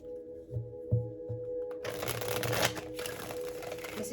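Tarot cards handled and shuffled close by, a few soft taps followed by a dense riffling shuffle.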